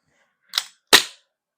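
A KJ Works CZ Shadow TS2 gas blowback airsoft pistol is fired one-handed twice, each shot a sharp close crack, the second louder, with a short decay and silence around them.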